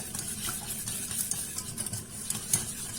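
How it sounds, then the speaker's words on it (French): Chocolate glaze for a quick Christmas log cake is stirred continuously as the chocolate melts, giving a faint, soft, steady swishing close by. "On n'arrête pas de mélanger"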